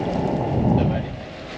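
Wind rushes past a Beneteau Oceanis 50 sailboat under way, a steady low buffeting roar that swells briefly in the middle and then eases.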